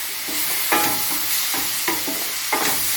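Grated tomatoes go into a hot pan for tomato rice and are stirred, giving a constant close sizzle broken by four rhythmic scraping strokes of the spoon.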